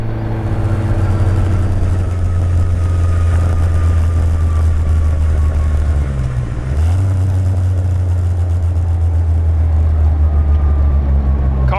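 A 1961 MGA 1.8L Speedster's engine cruises in 4th gear at about 3,400 RPM, a loud, steady low drone with a brief dip in pitch midway before settling back to its even hum.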